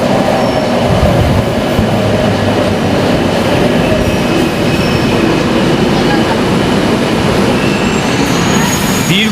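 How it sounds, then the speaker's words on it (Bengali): A metro train arrives at a station on a rainy day, its heavy rumble and rolling clatter loud and continuous up close, with faint wheel squeal. "এই মেট্রো চলে এলো।"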